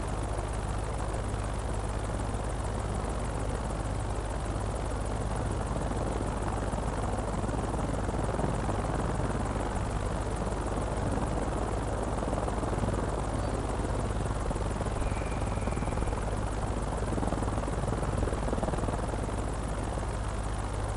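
A Hiller UH-12B helicopter engine in Microsoft Flight Simulator 2024 gives a loud, steady droning whir with constant rotor buzz that fills the whole stretch without a break and without speech.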